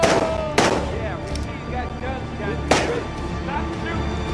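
Gunshots ring out in the video game Days Gone: sharp, loud, close reports, three of them spaced irregularly over a steady background rumble.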